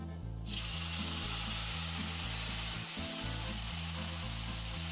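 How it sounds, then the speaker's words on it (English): Food hitting hot shimmering olive oil in a pan sets off a loud, close sizzle that starts abruptly and holds steady as continuous frying hiss, with a low rhythmic hum in the background. "we're going to fry this until it's brown on two sides"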